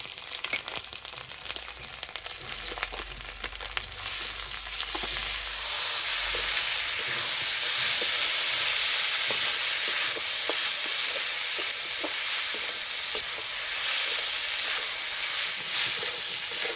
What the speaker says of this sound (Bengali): এই চালটাকে হালকা আঁচে ভালো করে ভেজে নেব।